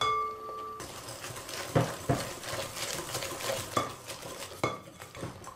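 Sesame cookie dough with powdered sugar and a pinch of salt stirred in a bowl, a spoon scraping and clinking against the sides in uneven strokes, close and fairly quiet with no talking.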